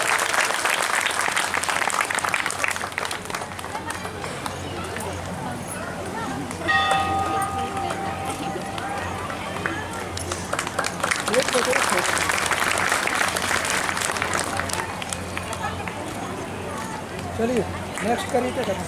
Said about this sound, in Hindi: कम से कम ताली से स्वागत कर सकते हैं आप लोग।